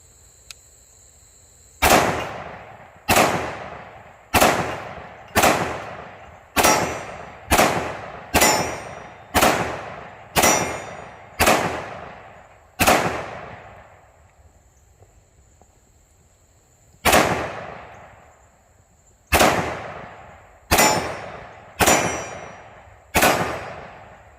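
Sixteen sharp pistol shots from a Smith & Wesson M&P in .357 Sig firing Speer Lawman 125-grain rounds at a steel target about 25 feet away, each crack ringing with a metallic clang; an even string, a pause, then four more quick shots.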